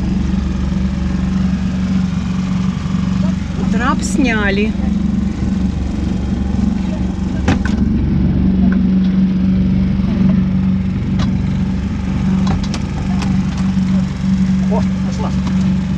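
A boat's outboard motor runs steadily and loud while the boat works to get off a sandbank, with a constant low drone throughout and voices speaking briefly over it.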